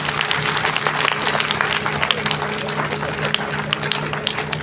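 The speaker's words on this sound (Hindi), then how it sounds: "तो फिर ताली बजाओ।" Audience clapping and applause at a Republic Day school speech, a steady broadband patter of many hands that stays fairly loud for the whole stretch, with a few sharper individual claps standing out.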